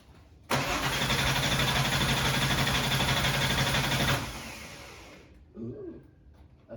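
A Porsche 993 engine, just reinstalled and reconnected and with no fuel in it, cranks and turns over loudly and steadily for about three and a half seconds, then cuts off, leaving faint voices and a quieter tail.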